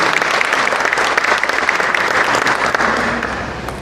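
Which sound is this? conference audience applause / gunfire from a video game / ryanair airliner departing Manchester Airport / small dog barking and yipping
conference audience applause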